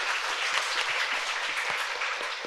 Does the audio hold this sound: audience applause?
yes